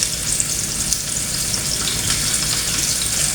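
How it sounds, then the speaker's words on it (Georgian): Cabbage frying in a pan, a steady close hiss and crackle of sizzling oil running unbroken throughout, with faint stirring and no voices. "კომპოსტო ჩავაწყოთ და შევწვათ"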